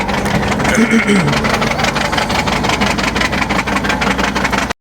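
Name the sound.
vehicle engine idling, engine trouble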